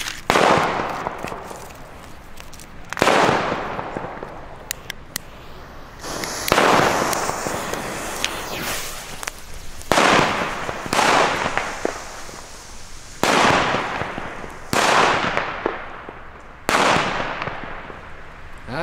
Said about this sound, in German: Weiter geht es mit den Gao D-Böllern.